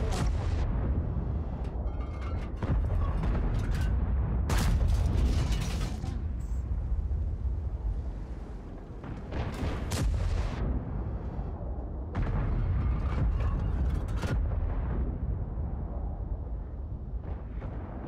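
Tank cannons and artillery fire in World of Tanks, including a GC tank, in several sharp loud booms with rumbling tails spread across the span over a low continuous engine and battle rumble.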